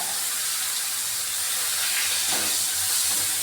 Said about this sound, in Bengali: পেঁয়াজটা আমি ভাজবো তেলের মধ্যে, গ্রেট করা পেঁয়াজটা।